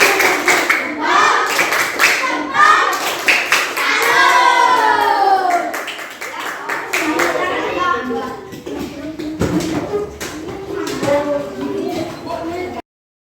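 Classmates clap for a student group presentation in a classroom, bursts of hand clapping mixed with children's and adults' voices talking over much of it, fairly close and loud, ending abruptly.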